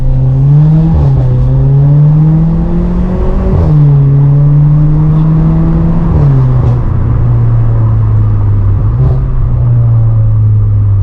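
Volkswagen Polo GT TSI engine revving steadily and close, its pitch rising and dropping in several swells over a continuous loud rumble, with no voices.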